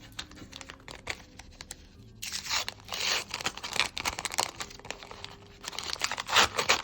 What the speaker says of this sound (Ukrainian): І сьогодні ми знову відкриємо два пакетики.